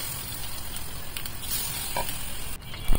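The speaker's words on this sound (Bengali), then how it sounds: "বাকি ফুলগুলোকেও অল্প আঁচে আস্তে আস্তে মচমুচি করে ভেজে নেব।" Batter-coated pumpkin flowers fry crisply in oil over low heat, a steady close sizzle and bubble that carries on evenly, with one brief clink near the end.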